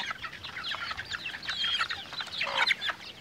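Several native chickens cluck and chatter close by in quick, uneven bursts, with one louder squawk near the end.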